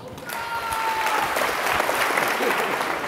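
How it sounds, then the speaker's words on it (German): Audience applause for two volunteers at a body language and improvisation talk, steady full clapping from a sizeable crowd throughout, loud and sustained. "Klatsch mal für die beiden."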